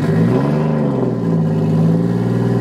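A Nissan car engine runs close by, a steady mid-pitched hum with a slight rise in revs, continuous throughout with no voices.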